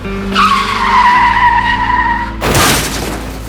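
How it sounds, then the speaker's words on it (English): A car skids out of control with a long loud tire squeal, then slams into a big tree in a sudden harsh crash of impact noise. "গাড়ির control loose করে ধাক্কা লাগলো একটা বড় গাছের সাথে।"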